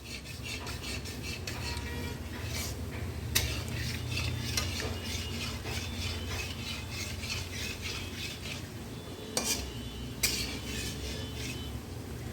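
Netrokona balish misti sweets fry gently in a pan of oil, giving a steady low hiss. Occasional metallic clinks and scrapes of a utensil sound against the pan.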